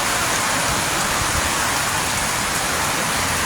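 Heavy typhoon rain from Typhoon Enteng pours down in a dense, unbroken roar during flooding in Marikina, loud and close with no pause.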